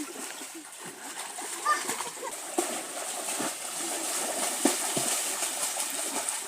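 Water splashing and sloshing continuously as children bathe in a large pond, with faint children's voices and a bird or two in the background outdoors.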